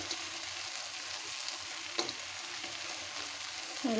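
Shrimp fritters frying in oil with spiced masala in a pan, a continuous soft hiss and crackle at moderate distance, with a faint clink near the end.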